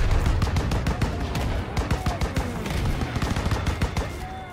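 Heavy gunfire in Call of Duty: WWII during a 1944 battle near Caen, France, with tanks: dense, rapid bursts of automatic and rifle shots crackle continuously and loudly, overlapping with distant booms and no break.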